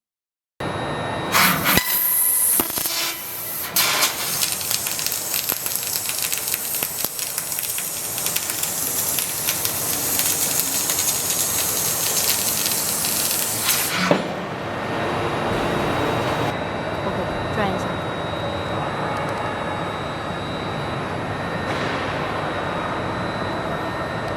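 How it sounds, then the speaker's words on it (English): A 20 kW fiber laser cuts 25 mm carbon steel with a loud, continuous hissing roar. The roar cuts off abruptly partway through, then a steady machine hum remains. "We will cut in the 25 millimeter the carbon steel."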